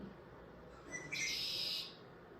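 A single red-winged blackbird call rings out once, a short burst with a rising trill, fairly faint over a quiet outdoor background.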